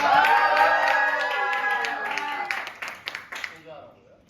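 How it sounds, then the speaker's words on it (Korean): Audience clapping to welcome Team Babodeul onstage at a Korean Christian campfire praise contest. Sustained applause with a sung or spoken voice carrying over it, then thinning into a few scattered claps before fading. "팀 바보들을 박수로 맞이하겠습니다."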